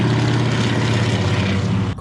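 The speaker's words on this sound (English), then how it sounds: "There's a crop dusting plane." A crop dusting plane passes low overhead on an early morning, its loud, continuous engine and propeller roar filling the air before cutting off abruptly at the end.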